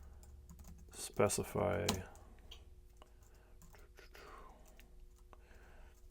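Typing on a computer keyboard while building a budgeting app: a dense burst of clacking keystrokes for about a second, then sparse soft clicks under a quiet voice.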